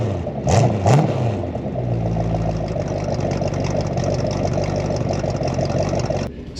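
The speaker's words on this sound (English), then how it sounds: "This thing fires right up. That exhaust sounds awesome." A 1962 Ford Thunderbird with a 428 engine idles through its exhaust in a steady, throaty low rumble, with a couple of quick revs near the start, close and continuous with no talking.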